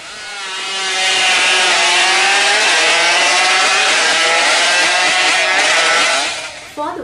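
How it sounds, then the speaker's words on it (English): A modified motorbike engine climbs into a loud, sustained high-pitched rev, holding the buzzing whine for several seconds before dropping off abruptly at the end. "the sound of accelerating the motorbike, like the rhythm sound"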